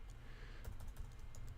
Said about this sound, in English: We'll need to type the correct name for the file.